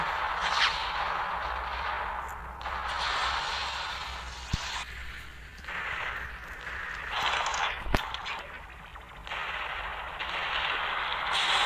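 Gunfire and explosions in the City Smash destruction game: loud bursts of crackling shots come in clusters with a couple of sharp single cracks, separated by brief lulls.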